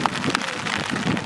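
Steady rain patters across a surface during a cricket match, a dense, even hiss with scattered drop taps, close and continuous with no voices.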